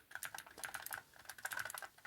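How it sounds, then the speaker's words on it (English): Rapid clicky typing on a mechanical keyboard fitted to an Amiga 1200, keystrokes pattering in quick irregular bursts close to the mic, with a short pause midway and no talking. "you can hear the clickiness of it. Clicky keys."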